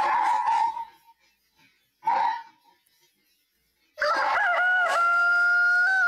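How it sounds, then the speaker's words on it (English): A rooster crows three times nearby, two shorter calls with pauses between, then a longer, louder drawn-out crow. "And I apologize for the damn rooster."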